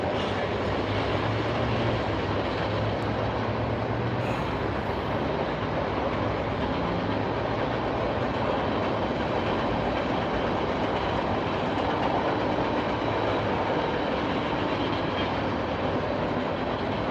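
A train rolls past close by for the whole stretch, a loud, steady broadband rumble with a faint rhythmic clatter of wagons on the rails and no voices.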